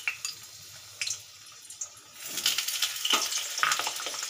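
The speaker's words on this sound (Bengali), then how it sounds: "এখানে আমি আলুগুলো ভেজে নেব।" Potatoes sizzle in hot oil in a karai, a few sharp spits giving way to a steady, close frying hiss.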